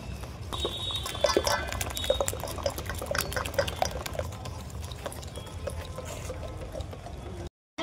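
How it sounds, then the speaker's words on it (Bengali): Oil being whisked into a fruit cake batter sweetened with nolen gur, a close, busy wet churning with soft clinks of the whisk against the bowl, running steadily with no talk. "তেলটা দিয়ে এইরকম ভাবে ঘুরিয়ে ঘুরিয়ে আবার ফেটিয়ে নিতে হবে।"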